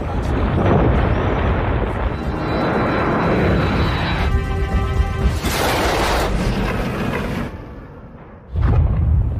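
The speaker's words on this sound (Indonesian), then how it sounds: "dirinya melihat sebuah letusan gunung yang sangat mengedankan sekali" Volcanic eruption rendered as a film effect: a loud, sustained low roar and rumble with heavy broadband noise throughout, a brief dip near the end before the roar surges back.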